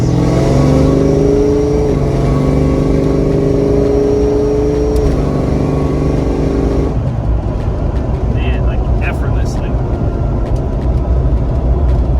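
A Fox-body car with a 331 stroker V8 engine rumbles and revs steadily at close range, its pitch rising and falling, then settles into a rough idle.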